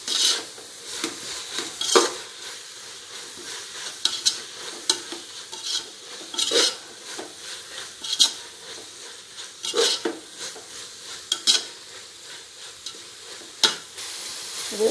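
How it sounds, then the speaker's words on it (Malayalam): Ground mint and coriander leaf paste being stirred in a pan for a Kerala-style Thalappakkatti chicken biryani, with a steady sizzle and repeated scraping strokes of a spoon against the metal, close and alone. "ഇതിലേക്ക് നമുക്ക് അരച്ച് വെച്ചിരിക്കുന്ന പുതിനയിലയും മല്ലിയിലയും കൂടെ ചേർക്കാം. നല്ലപോലെ പച്ച മണം മാറുന്നത് വരെ ഇളക്കുക."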